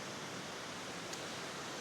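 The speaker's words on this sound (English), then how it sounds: "beautiful little waterfall tucked away in the corner here." A small waterfall on a mountain trail gives a steady, even broadband rush of falling water, moderately quiet and unbroken, with no talking.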